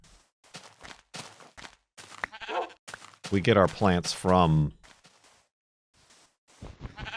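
Sheep bleating in Minecraft, several wavering bleats in a cluster mid-way, mixed with footstep thuds while a person talks before and after.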